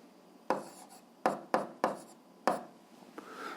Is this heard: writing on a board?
yes